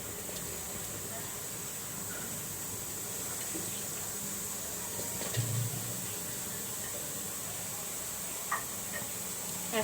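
Onions sizzle in a cooking pot alongside chopped garlic, giving a steady, moderately faint hiss with a few small pops and crackles.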